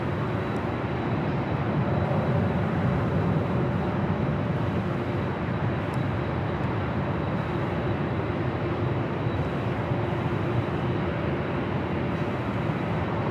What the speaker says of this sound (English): Now number 2 for takeoff here on the north side